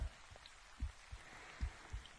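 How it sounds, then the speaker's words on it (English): Rain falls steadily as a soft, even hiss, with a few low thumps of drops landing nearby. The sound is quiet and continuous and carries no voices. "The rain is just so nice."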